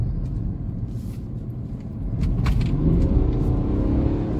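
A BMW 330d diesel in sport plus manual mode accelerates nearby, engine note climbing and swelling louder partway through, with no talk.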